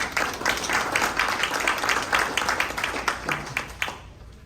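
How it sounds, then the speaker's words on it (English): Steady applause from an audience at a driver awards ceremony, a continuous wash of clapping that holds for a few seconds before tapering off. "Let's give a round of applause for David Dotson, Boss Driver of the Year."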